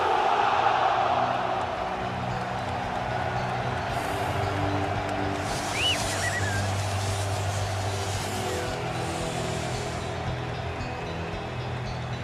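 A stadium crowd at the Parc des Princes welcomes a new PSG signing with a steady, distant roar of applause and cheering that holds throughout and swells slightly midway.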